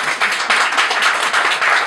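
A church audience applauds a volunteer who prepared the beans for the meal: a dense, steady wash of many hands clapping together, fairly loud and sustained throughout.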